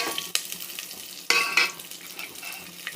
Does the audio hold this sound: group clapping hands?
no